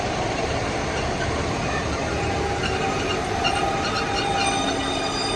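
Passenger train arriving at Brough station, a loud continuous rumble of wheels on rails with high squealing tones above, close and steady with no speech.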